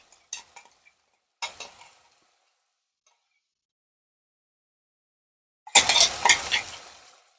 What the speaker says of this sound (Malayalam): ഇതൊരിച്ചിരി പോലും ബാക്കി വരാതെ നമുക്ക് ഇതിലോട്ട് നന്നായിട്ടൊന്ന് മിക്സ് ചെയ്ത് കൊടുക്കാവേ